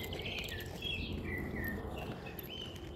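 Several birds sing in a wooded section near Stirling University, with overlapping whistled phrases and chirps repeating across a constant rustle of wind and foliage, no people speaking.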